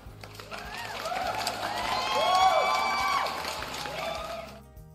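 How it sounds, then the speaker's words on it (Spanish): A crowd at a debate event on artificial intelligence cheers and whoops in a rising then fading swell, with scattered claps and shouts, moderately loud throughout. "mínimo que un aplauso para todos los que habéis llegado hoy"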